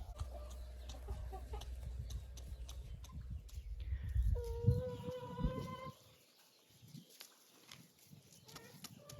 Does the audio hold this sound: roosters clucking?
yes